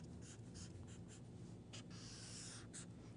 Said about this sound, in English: if I write this out nice and neat